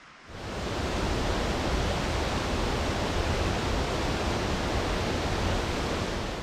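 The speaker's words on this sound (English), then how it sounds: "there's absolutely stunning waterfalls like this one." The waterfall at Ashgill Force in Cumbria roars in a steady, dense rush after a brief quieter start, loud and continuous with no other sounds.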